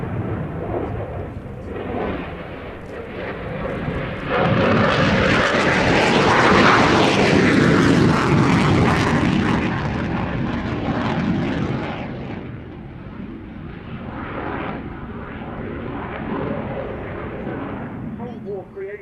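A MiG-29 jet fighter roars past, its engine noise swelling into a loud, broadband rush that peaks and slowly fades, with a voice talking over it.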